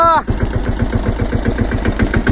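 A tractor's diesel engine idles close by with an even, rapid knocking pulse, preceded by a brief rising voice at the very start.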